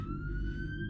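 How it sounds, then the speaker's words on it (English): Police sirens wail in the horror video game Bad Summer, a steady sustained tone held over a heavy low rumble throughout the short stretch, with no talking. "I can even hear there's actual sirens happening right now."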